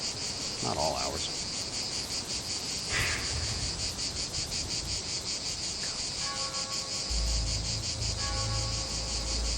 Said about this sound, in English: It's like deafening. I can barely hear myself think. They're cicadas.